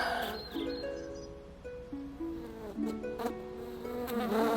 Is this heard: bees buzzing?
yes